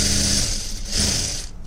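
A sewing machine stitches a boat-neck blouse piece in a fast continuous mechanical whir, loud and near, pausing briefly midway before running again and stopping.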